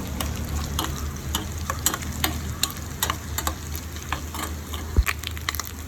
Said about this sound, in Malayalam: തേങ്ങാക്കൊത്ത് കൂടെ വറുത്തിടാം. ചെറുതായിട്ട് അരിഞ്ഞതാണ്. നെയ്യിലാണ് വറുക്കുന്നത്.